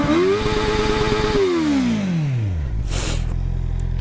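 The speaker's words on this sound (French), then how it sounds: "Je vais vous faire écouter le son de la ligne du 4 cylindres." A 2023 Honda CBR650R four-cylinder sport roadster's stock exhaust revs up to a high whine then falls smoothly back to a steady low idle, close and loud, with a brief burst of noise near the end.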